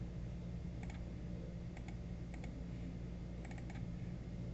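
Computer keyboard typing a title, a few short bursts of soft rapid key clicks in small clusters, faint and close over a steady low background hiss, with no voices.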